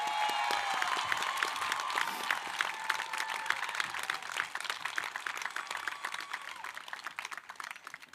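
A university commencement audience applauds at length, with dense overlapping claps and some cheering filling the hall, loud at first and gradually thinning toward the end.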